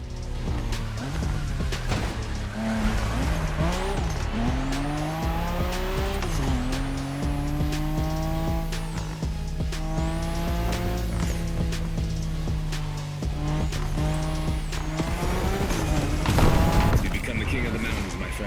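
Nissan Skyline race cars in The Crew Motorfest video game howl past with rising and falling engine revs, gear shifts and tire squeal, loud and continuous, with music and voices underneath.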